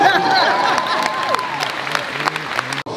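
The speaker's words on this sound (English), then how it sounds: "And give yourself a round of applause." Audience applause at a motivational talk by Coach Prime, a dense wash of clapping with some crowd noise and a sustained whistle or cheer early, fading slightly before a sudden cut near the end.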